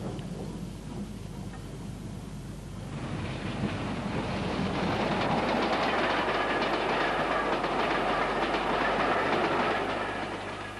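Two British Railways Standard Class 4 steam locomotives double-heading a train in the 1960s, a steady rumbling roar of the passing train that swells louder after a few seconds and holds, with no talking.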